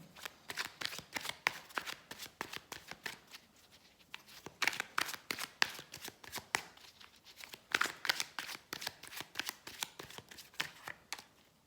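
Tarot cards being shuffled over and over in quick bursts of crisp riffling and flicking, close and fairly quiet, with short pauses between runs and no one talking.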